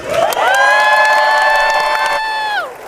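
A crowd at the State of the Union address lets out a long, loud whoop and cheer that holds steady for about two seconds before trailing off.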